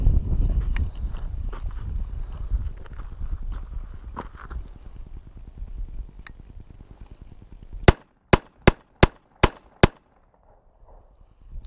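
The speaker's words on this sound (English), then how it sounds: "I'm going to shoot 6 rounds into the face of the target" A revolver fires six rounds at a target in quick succession: sharp, loud cracks evenly spaced about a third of a second apart, after quieter rustling and shuffling.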